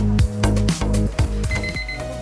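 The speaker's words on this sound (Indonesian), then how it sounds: "alarmnya udah bunyi nih" A kitchen timer alarm rings during steaming of a leaf-wrapped dish, giving loud, close, rapid repeating electronic beeps and rings that fill the whole stretch, with no talking.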